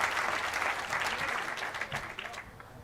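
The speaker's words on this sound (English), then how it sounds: "Give yourselves a round of applause" An audience at a United Way Fox Cities community campaign kickoff claps in a dense, loud, continuous burst that tapers slightly toward the end.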